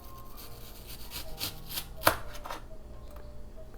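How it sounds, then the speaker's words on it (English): A knife slices onions thinly on a board for a salad, giving soft, quiet, irregular cuts with one sharper knock near the middle, heard alone without talk. "So I like to cut my onions like pretty thin."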